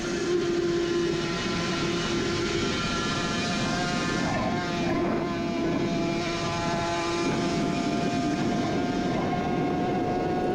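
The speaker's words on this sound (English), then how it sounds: "You'll probably see that the bike's just struggling to get to maximum RPM" A Suzuki RG500 classic racing motorcycle engine, recorded onboard on a road course, strains to reach maximum revs, making a loud, continuous droning roar that never rises cleanly.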